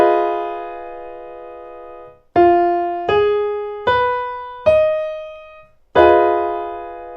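Half diminished seventh chord (minor 7 flat 5) rung out as one sustained chord, then its individual notes struck one after another and the full chord sounded again, each attack decaying slowly; clear, close and alone.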